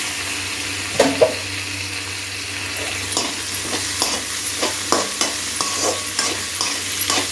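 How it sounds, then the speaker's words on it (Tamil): Tomato pieces frying in a pan with mutton, stirred with a utensil; a low steady sizzle runs throughout while scraping and stirring knocks land at irregular intervals. "இந்த தக்காளி வதக்கிறதுக்கு கொஞ்சமாக உப்பு போட்டுக்கிறேன்"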